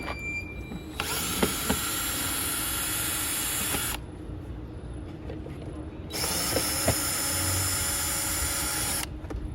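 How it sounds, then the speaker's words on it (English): Two long bursts of a power drill backing out the screws on a Chrysler Pacifica air filter housing, loud and close, each whine running several seconds with a short pause between and small ratcheting clicks. "So I'm going to start by taking out the two screws."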